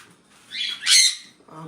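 Sun conures and cockatiels give two sharp, loud squawking calls in quick succession at a bird farm in Bangladesh, with a brief softer chirp following and a quiet background.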